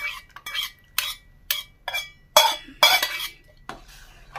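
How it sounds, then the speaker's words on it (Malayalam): A spoon stirs a sago drink in a pot, making about ten quick, crisp clinks and scrapes in an uneven rhythm, close up and alone. "എന്നിട്ട് നല്ലതായിട്ടൊന്ന് ഇളക്കി കൊടുക്കണം."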